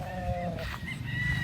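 Gamefowl on a large Philippine farm, a chicken's short vocal calls and clucks up close, brief and somewhat rough, over faint background noise.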